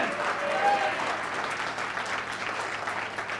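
Worshippers in a church applaud the Lord together, a continuous crowd of clapping hands lasting a few seconds, steady and moderately loud with a faint tone briefly audible near the start.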